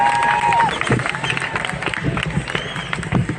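An outdoor No Kings protest rally crowd in State College produces a dense murmur of many voices with scattered cheers and claps, heard from the edge of the gathering as people mill about.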